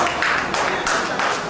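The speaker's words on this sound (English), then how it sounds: "So you can clap again" Audience clapping at a journalists' union event with politicians, a steady dense patter of many hands filling the room, continuous and fairly loud with slight swells, no talk over it.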